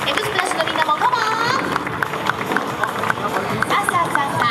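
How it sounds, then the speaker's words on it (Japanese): Audience clapping and cheering welcoming performers onto a stage at a live show, a busy crowd hubbub with scattered applause and voices mixed throughout. "はい、拍手でお迎えください。"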